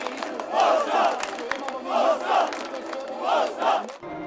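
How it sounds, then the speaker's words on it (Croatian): Football fans sing their supporters' anthem in a town square in Zenica, a large crowd chanting in loud rhythmic surges that rise and fall about every second and a half. "Ponosni navijači na trgovima Zenice pjevali su navijačku himnu"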